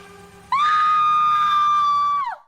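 A woman in a horror film about turning humans into rats screams hysterically in one long, loud, sustained cry of about two seconds that abruptly cuts in and trails off, over a faint low rumbling background.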